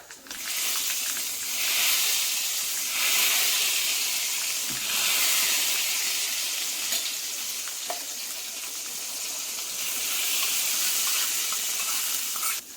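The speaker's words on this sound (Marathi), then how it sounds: "आणि थोडासा हिंग, थोडासा कढीपत्ता आणि लाल मिरची। पण याच्यात ही फोडणी देऊ।" Spices—asafoetida, curry leaves and red chilli—sizzle in hot oil as a tempering, a loud, steady hissing crackle that runs unbroken for the whole stretch with small swells and no voices.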